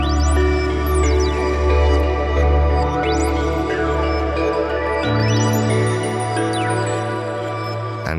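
Reversed, pitched-up sample from a Morphogene module fed through delay, sweeping tones rising and falling over a steady low drone, with a lower sustained tone taking over midway; loud and continuous with no voices.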